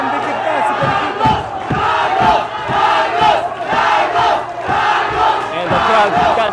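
Boxing crowd at a ZC Kings Promotions fight roaring and chanting in loud, continuous waves, with rhythmic surges and a steady low hum underneath, no clear speech.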